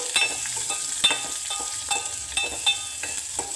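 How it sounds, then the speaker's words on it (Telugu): Onions fry in a pan while being stirred, a continuous close sizzle broken by repeated scraping and clinking strokes of the spoon at a loose, regular pace, with no talking. "అందులోకి ఈ ఆనియన్ వేసేసుకోవాలి."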